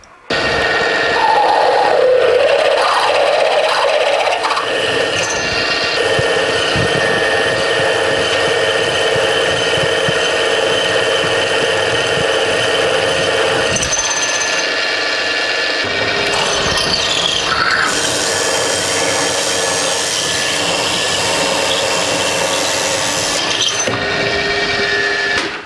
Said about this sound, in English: So now we successfully and pain-free drilled the 11 millimeter hole.